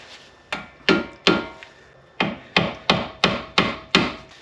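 A screwdriver tapped repeatedly against a cotter pin during a Subaru Outback power steering rack replacement, eight or so sharp metallic knocks at a steady, slightly uneven pace, close and crisp with brief ringing decays.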